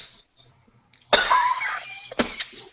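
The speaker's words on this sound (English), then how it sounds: "Do apologise for my coughing." A single close, harsh cough bursts out, then a second shorter cough follows about a second later, with near silence before them.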